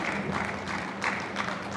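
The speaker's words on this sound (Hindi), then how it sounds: "एक बार जोरदार तालियां" Audience applause at an indoor event: a brief, dense patter of many hands clapping at moderate volume, steady throughout with no voices on top.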